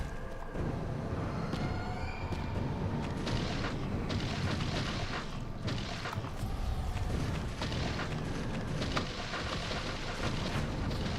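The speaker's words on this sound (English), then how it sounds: "There's just a lot of explosions right now." Continuous rumbling booms and blasts from the video game Mecha Knights, overlapping explosions in a dense, steady barrage with sharp cracks scattered throughout.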